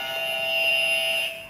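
A cricket bowler's quiz-show buzzer rings out as a steady, alarm-like electronic tone, loud and close, holding for over a second before tailing off, with no voices.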